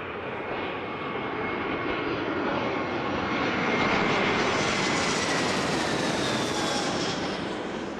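An airplane landing in Minecraft produces a steady, loud, broadband engine roar throughout, swelling slightly toward the middle with a high whine running on top, no speech.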